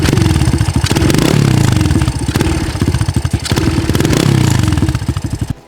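An idling motorcycle engine whose carburettor throttle needle is out of adjustment, close and loud, with an uneven pulsing chug and a couple of brief revs before it cuts off.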